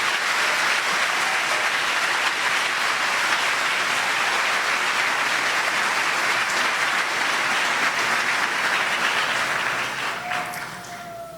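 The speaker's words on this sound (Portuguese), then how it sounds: "Se você crê, aplauda ao Senhor." A church congregation applauds the Lord, a loud, dense, continuous wave of clapping that holds steady for several seconds before dropping off near the end.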